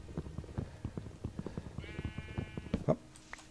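Sheep in the Minecraft video game bleat in a quick repeated series of short calls over soft rhythmic footsteps, with a higher tonal sound layered in partway through.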